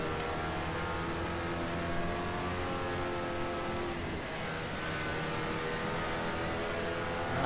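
Several Mazda MX-5 Spec Miata race cars in rFactor 2 drone together in a steady, dense engine roar at Indianapolis, a gaggle of cars running close in a pack with little change in loudness.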